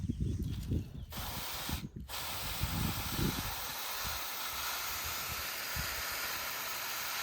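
Water sprays from a garden hose during outdoor cleanup at a home, a steady broad hiss running throughout with low thumps and handling noise in the first seconds, fairly quiet and close.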